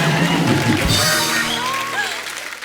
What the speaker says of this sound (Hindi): एक बार इस अनप्लैन्ड चाइल्ड के लिए जोरदार तालियां